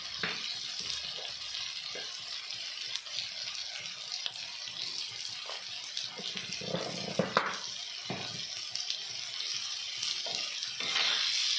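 Bombil (Bombay duck) fish frying in a pan, a constant bright sizzle with intermittent spatters and pops, close and fairly loud, without speech.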